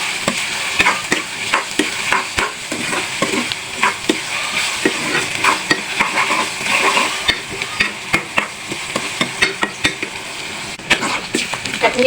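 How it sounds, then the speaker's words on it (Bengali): Pangas fish with salt is stirred in a frying pan, a continuous sizzle broken by frequent scraping clicks of the spoon against the pan, close and fairly loud. "লবণটাকে সুন্দর করে নেড়ে নেব।"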